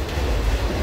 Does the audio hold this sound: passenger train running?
yes